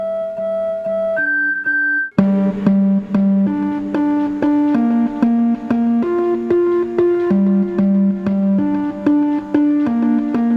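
A series of pure electronic tones is played through a loudspeaker that drives a vibrating Chladni plate. A few sustained notes open the clip, then a rapid sequence of stepped pitches follows, steady and close with no talk.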